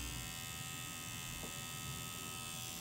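A tattoo gun buzzes continuously while black ink is applied, a steady, close, even electric whine with no pauses across the whole stretch.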